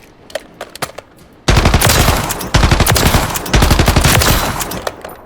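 Automatic gunfire at a firing range in Warzone III: a few scattered light clicks and taps, then loud sustained bursts of rapid fire in several long strings with brief pauses between them, close and dominant.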